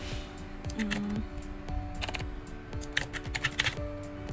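Typing on a computer keyboard while designing in Figma, a run of close, quick key clicks in uneven bursts, with a few harder taps near the end.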